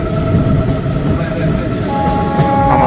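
A passenger train on the Kolkata to New Jalpaiguri run rolls through Nabadwip Dham station with a loud, steady rumble of wheels and carriages, and thin tonal whines rising near the end.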